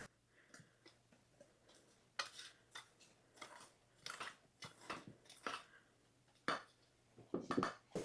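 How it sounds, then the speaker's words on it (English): Dry baking ingredients for a chocolate chip cake are whisked in a bowl, making a quiet, irregular series of scratchy clinks and taps of the whisk against the bowl, heard alone. "Just going to whisk everything together."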